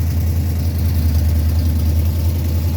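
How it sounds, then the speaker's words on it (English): A Dodge Ramcharger's carbureted engine, fitted with MSD ignition coils, runs loud and close with a steady low rumbling idle. "And fire it up with some MSD ignition coils to make sure that spark is lit."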